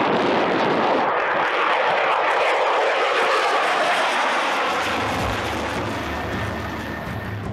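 A fighter jet with two Pratt & Whitney F-100-PW-229 afterburning engines roars loudly and continuously, a broad heavy rumble that fades slightly toward the end.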